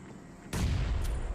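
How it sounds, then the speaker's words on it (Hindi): A grenade explodes in PUBG Mobile gameplay, one sudden loud boom that cuts in abruptly and rumbles on, with a second burst following shortly after. "अब जैसे मैंने ये वाले ग्रेनेड की पिन खींची और ये फेंका"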